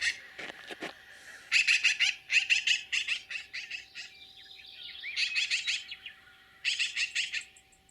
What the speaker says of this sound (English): Black-billed magpie.